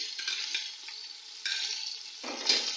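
Ginger and garlic paste frying in a pan for chicken corn soup, a continuous bright close sizzle with soft stirring scrapes, swelling briefly louder midway and again near the end.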